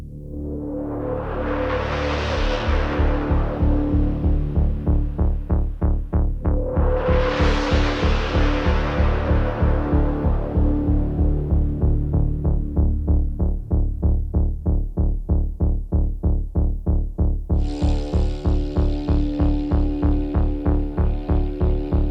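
Layered synthesized sci-fi drones from the Forbidden Planet sound design library throb and pulse steadily, with rising sweeping swells and a bright shift near the end, loud and continuous with no voices.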